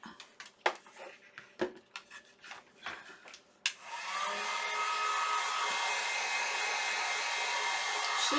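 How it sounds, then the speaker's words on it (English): A heat gun blows hot air onto a freshly painted, cut wooden board to dry it, starting after earlier scattered knocks and rubbing, then holding a loud, steady roaring hiss to the end. "Shouldn't take too long to dry with the heat gun."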